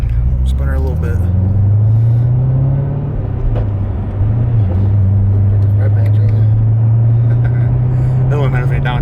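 A C7 Corvette Z06 with a manual transmission drones from inside the cabin, its engine note dipping and rising again around a gear change, loud and close with people talking over it.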